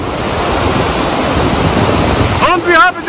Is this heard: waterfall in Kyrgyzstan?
yes